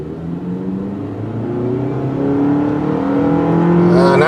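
A 2017 Mitsubishi Outlander accelerates hard, its engine note climbing steadily in pitch and growing louder as the revs build, heard close up with no talk over it.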